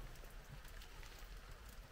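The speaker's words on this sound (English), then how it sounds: "getting a moment out of the rain" Steady rain patters on a rocky Appalachian Trail hiking path during a thru-hike, a dense, even hiss of drops hitting stone and foliage close by, with no voices over it.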